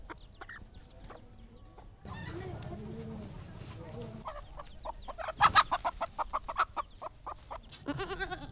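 Chickens cluck and squawk in a rural spot in Bodhgaya, India, with a rapid run of loud, close squawks in the middle, faint background animal noise, and some speech.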